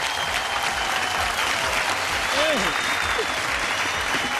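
Loud, dense applause from an audience at a Lucknow talent-contest stage show, sustained for several seconds, with a brief voice rising above the clapping midway.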